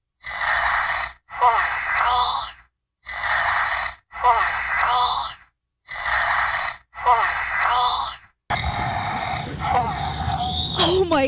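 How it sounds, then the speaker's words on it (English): A Hatchimals toy emits repeated rasping, breathy bursts like heavy breathing, six evenly spaced pulses close and loud, followed by a steadier noisy stretch. "It sounds like heavy breathing."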